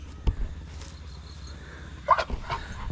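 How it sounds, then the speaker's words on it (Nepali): Two short, sharp barks from dogs at a home, one near the start and one later, over faint background hum. "These are our dogs"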